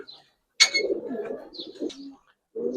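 Giribaz and coloring pigeons coo from a nearby loft in a few soft, low rolling phrases with short pauses between, one brief sharper chirp near the start.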